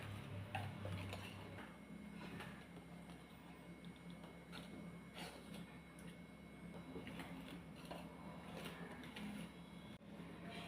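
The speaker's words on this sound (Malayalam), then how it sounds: "ഞാൻ ഈ വിസ്ക് വെച്ച് ഇത് നന്നായിട്ടൊന്ന് മിക്സ് ചെയ്യുവാണ്" A whisk stirs cupcake batter in a mixing bowl, making quiet, light, repeated ticking and clinking taps against the bowl, with no voices.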